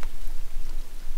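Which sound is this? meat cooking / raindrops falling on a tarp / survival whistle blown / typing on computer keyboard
raindrops falling on a tarp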